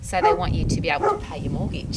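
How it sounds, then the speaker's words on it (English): A pet dog barks indoors in several short yappy bursts, mixed in with a person talking over it. "that's my dog barking at you because he really likes people who like dogs."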